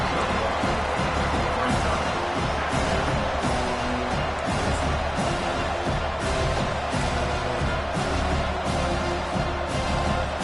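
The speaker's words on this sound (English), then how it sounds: "this crowd is fired up. Listen to this noise here." A large football stadium crowd roars continuously, a dense wall of cheering and shouting that stays loud throughout without a break.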